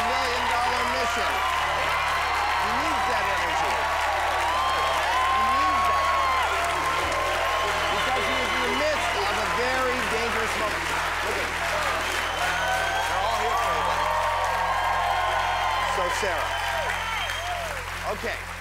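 A Deal or No Deal studio audience applauds and cheers continuously, a thick wall of clapping with whoops layered over it and voices mixed in, steady and loud from start to finish.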